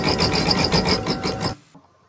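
A Brother embroidery machine sews a running-stitch outline around a patch at slow speed, giving a soft rhythmic needle pulse that cuts off abruptly after about a second and a half.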